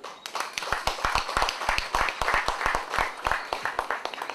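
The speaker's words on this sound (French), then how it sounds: "je demande quand même de l'applaudir cette personne" Enthusiastic audience applause at an inauguration ceremony, many hands clapping densely and steadily throughout with no voices on top.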